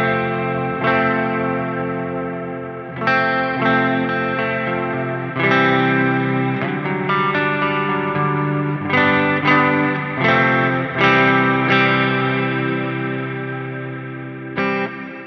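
Electric guitar chords drenched in a huge, lush reverb from a Meris Mercury X pedal, each strum blooming into a long washing tail that overlaps the next, loud and close with no talking.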